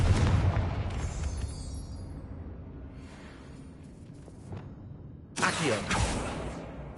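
Explosive bursts from the Confringo fire spell in the video game Hogwarts Legacy: a loud boom opens, rumble trails off, then a second sharp blast erupts near the end, with no talking.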